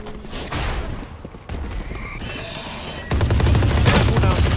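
Ares and Odin machine guns firing in Valorant, rapid sustained bursts in close succession with brief gaps, ending in a long, loud continuous stream of automatic fire.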